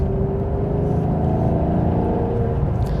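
A 2010 Maserati GranTurismo S engine revs loudly and steadily up close, a full, sustained mechanical roar with no voices over it.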